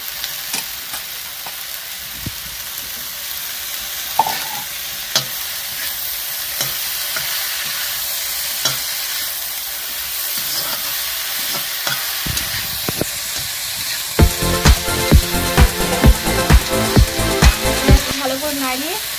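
Chopped red amaranth leaves hit a hot pan and fry with a constant sizzle, then quick rhythmic scraping stirs of the spatula pick up near the end, close and clear with no talking.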